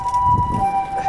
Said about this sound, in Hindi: आज तो बहुत सारी एम्बुलेंस हो रही है।